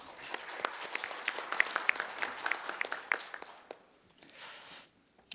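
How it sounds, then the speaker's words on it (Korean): An audience at an academic conference claps to welcome the session moderator, scattered hand claps building into moderate applause that thins out and fades near the end. "큰 박수로 맞이해 주시기 바랍니다."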